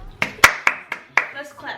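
Several sharp hand claps in a loose, uneven rhythm, close and fairly loud, with faint voice sounds in between.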